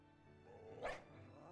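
A single short bark-like yip from Mabostiff, a dog Pokémon in Pokémon Violet, rises briefly over steady background game music.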